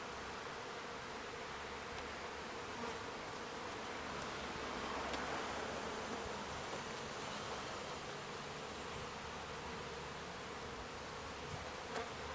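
A steady, dense hum of many bees buzzes continuously around a top bar hive during a relocation, close and even in loudness without any talk.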